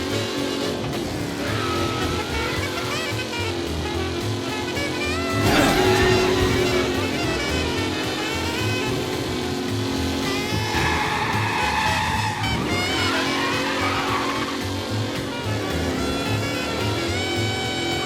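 Car engines roar and tires squeal through a skid in Mafia: Definitive Edition, with a steady game-like soundtrack underneath and a louder burst partway through.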